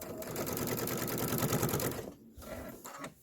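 A sewing machine runs steadily, stitching the seams of a quilted pillow with a fast, even mechanical chatter for about two seconds, then slows and stops in short bursts; close and clear, no talking.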